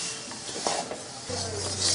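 Ghee and melted jaggery bubble and hiss steadily in a pan while being stirred with a spoon, a dense close sizzle with soft scraping strokes, and a low hum underneath during the second half.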